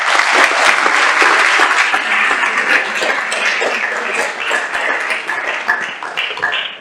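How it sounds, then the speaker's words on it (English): A county judge debate audience breaks into dense, loud applause that holds steady for several seconds, with scattered sharper claps standing out near the end. "Let's welcome and give a round of applause."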